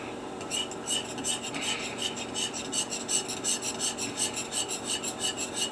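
Rapid rhythmic rasping of a chainsaw file sharpening a needle point for fossil preparation, stroking back and forth, close and steady, with no voices.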